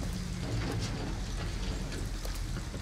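Rain falls in Detroit: Become Human near an abandoned house, a dense, even hiss of drops with soft patters on surfaces, steady and alone without voices.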